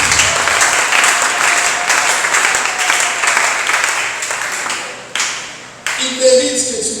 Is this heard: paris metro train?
no